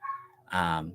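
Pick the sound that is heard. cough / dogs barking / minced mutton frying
dogs barking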